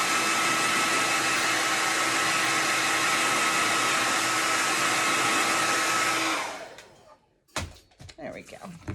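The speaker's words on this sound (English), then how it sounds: "I'm going to dry this egg real quick" A hair dryer blows steadily and loudly on a painted Easter egg for about six seconds, then shuts off and leaves a few faint handling knocks.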